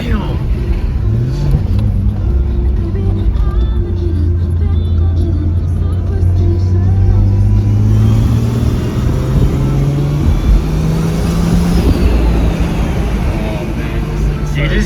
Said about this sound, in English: You just hear that turbo start like sucking in there.